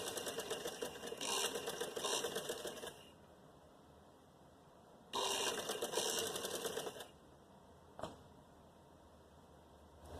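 A sewing machine stitches a puff sleeve in two loud bursts of rapid whirring, each about two seconds, with quiet pauses between and a brief click near the end.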